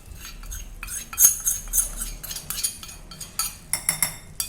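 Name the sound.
stirring eggplant bharit mixture with a spoon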